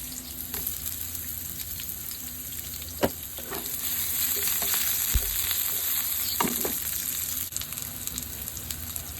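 Garlic and onion sauté in olive oil in a pan, giving a continuous close sizzle with scattered spatters and a few soft knocks from stirring, heard alone without voices.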